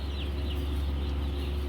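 A poultry farm shed on a Saudi Arabian farm is full of chickens giving a dense, continuous murmur of soft clucks over a steady low mechanical hum, with no one speaking.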